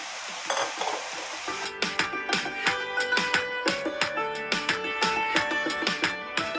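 Kaila goes into a hot pan with a brief hiss, followed by a rhythmic series of ringing metallic clinks and scrapes as a utensil stirs it, close and distinct.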